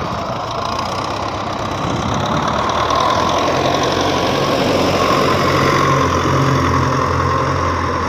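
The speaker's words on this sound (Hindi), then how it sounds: "रात के वक्त में भी ट्रैक्टर स्टार्ट है।" A tractor engine runs steadily in a field at night, a loud, close, continuous rumbling idle with a knocking throb and no pauses.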